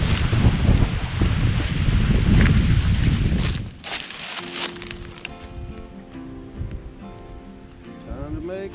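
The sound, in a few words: wind blowing at a fall campsite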